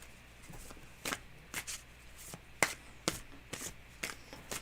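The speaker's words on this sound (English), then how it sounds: "All right, shuffle away." Tarot cards are shuffled by hand, giving a run of about ten quick, crisp riffling bursts at uneven intervals, close and fairly loud over a quiet background.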